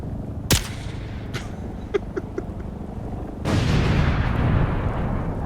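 Gunfire in the video game Dune Awakening aimed at a ship: a sharp loud shot, then several lighter repeated bursts, and then a sustained rumbling roar of heavier fire or engine noise.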